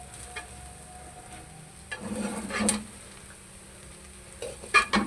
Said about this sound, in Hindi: एक दफ़ा हमने इसको चम्मच हिला के इसको थोड़ी देर छोड़ दिया करें